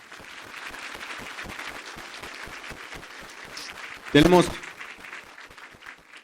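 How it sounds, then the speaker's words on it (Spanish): A church congregation claps along in a fast, even rhythm at moderate volume while someone speaks over the clapping near its end. "Dale un aplauso fuerte al Señor"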